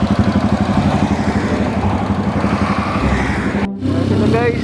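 A motorcycle engine runs steadily and loudly through most of the stretch as the rider follows a group. Near the end it briefly cuts out, then returns with a lighter rev. Background voices mix in under the engine.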